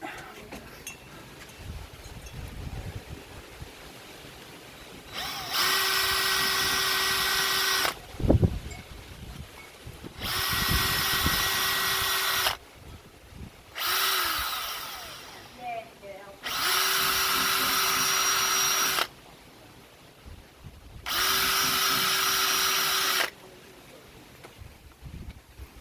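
A power drill fitted with a new bit drills out holes while fitting jail bars to a VW, running in four steady bursts of a few seconds each with short quiet gaps between them. Close and loud, with a brief knock in one pause.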